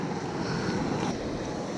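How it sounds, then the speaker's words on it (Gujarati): Sea waves surge onto the shore, a steady broadband rush with some wind buffeting the microphone, continuous and fairly close throughout with no voices. "જો મોજા કેવા ઉછરે છે ત્યાંના, જોરદાર, બીક લાગે એવા."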